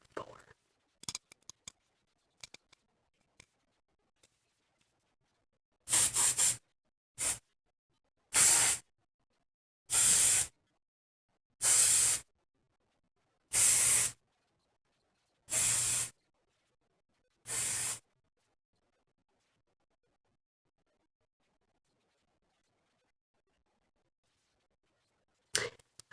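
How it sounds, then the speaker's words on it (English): Short hiss bursts from a L'Oreal Lock-It Weather Control anti-frizz hairspray can, seven sprays in a steady rhythm, close and loud, followed by silence. "L'Oreal Lock-It Weather Control Hairspray Anti-Frizz 48 Hour."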